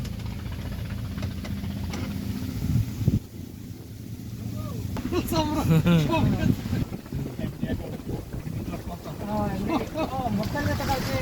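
Steady wind buffets the microphone beside a full river on a cloudy day, where boats and a trawler are out, with a continuous rushing roar under people talking.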